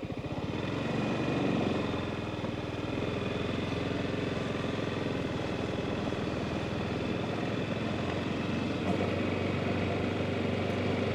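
A motorcycle engine hums steadily while the rider makes a U-turn at night, giving a constant mid-pitched drone with a slight rise and fall, close and continuous with no talk.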